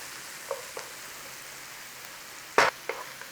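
Green chilies cooking in a pan for a no-tomato palak paneer, with a faint, even sizzle and a few brief pops and sputters, one louder crackle near the end, close and quiet with no talking.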